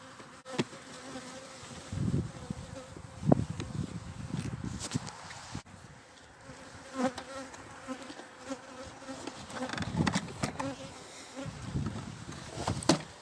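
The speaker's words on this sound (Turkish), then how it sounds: "İçeride zaten arılar hızlı hızlı dönüp birbiri etrafında dönüyorlar." A dense, steady buzzing of many honey bees inside a hive close by, with soft rustling and a few faint knocks underneath; no one speaks.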